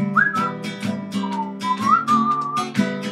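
A person whistles a cheerful, melodic tune alone, the notes gliding and sliding up and down in a steady, lilting phrase over a few seconds.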